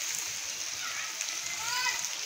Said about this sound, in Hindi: अभी दोबारा फिर बारिश शुरू हो गई है और काफ़ी तेज़ बारिश हो रही है।